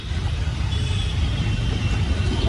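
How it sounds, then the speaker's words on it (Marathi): Jammed road traffic in Mumbai near Dadar's Chitra Beach makes a steady, dense rumble of idling and creeping engines, continuous and fairly close, with no voices. "जाम ट्रॅफिक आहे"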